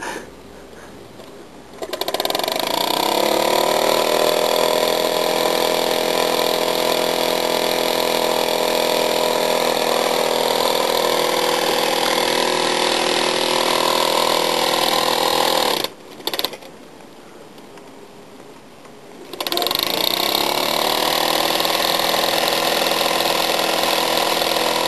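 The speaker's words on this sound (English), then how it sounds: "Mammoth traction engine, not run since 1978 till 2010." A model Mammoth steam traction engine, first run since 1978, chugs in a steady continuous mechanical drone, loud and close, briefly cutting out for a few seconds near the end before resuming.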